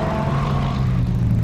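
Jaguar race cars, a Cougar Jaguar and a lightweight E-type, running at Mondello during a 1998 Welsh Championship race, giving a steady engine drone with a sustained low tone that shifts slightly in pitch, loud and continuous without speech.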